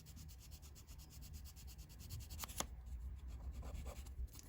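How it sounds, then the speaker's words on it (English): Quiet, steady rubbing strokes of a nail file used as a sanding block on an Airfix Sherman Firefly model kit part, close up and repetitive, with no voices. "you can use a nail file as a sanding block"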